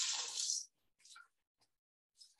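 Water splashed in a short burst into a pan while making a savoury Christmas log with faux gras and pears, a brief bright rush followed by a couple of faint small drips and clinks.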